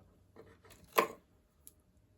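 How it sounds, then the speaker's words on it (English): A very dull knife slits the wrapper of a water-mixable oil stick, giving one quick, faint scraping tear with a few soft rustles of the wrapper before and after, in an otherwise quiet room. "I just slit a little bit here with what I have is a very dull knife"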